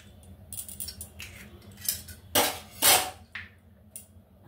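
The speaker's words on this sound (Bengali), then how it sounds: "এবার চিংড়ি মাছের ভেতর আমি একটা ডিম ফেটিয়ে দেব" An egg is beaten into raw prawns in a bowl, heard as irregular clinks and scrapes of a utensil against the dish, with a few sharper, louder strikes between quieter taps.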